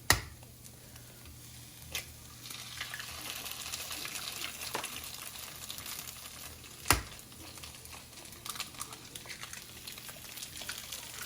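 Eggs frying under a lid in a pan with leftover brisket breakfast hash, a soft steady sizzle with a few sharp clicks and knocks, quiet and close.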